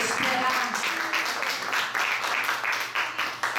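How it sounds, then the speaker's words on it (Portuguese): A church congregation claps in sustained, fairly loud applause, steady and dense throughout with a few voices faintly mixed in. "Dá um aplauso ao Senhor"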